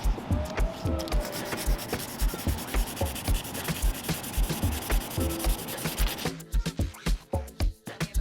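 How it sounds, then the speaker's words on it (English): Sanding a Nissan 350Z car door by hand, a steady rhythmic rubbing and scraping that repeats in close strokes for most of the clip, then turns to sparser, choppier strokes near the end. "So we gotta sand all this down or else it's gonna look like garbage."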